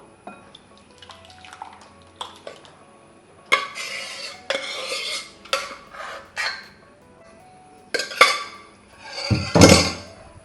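Jackfruit seed and mango curry is scraped and spooned from a pot into a bowl, with clinks and scraping bursts of utensils against metal and crockery that grow louder and busier toward the end.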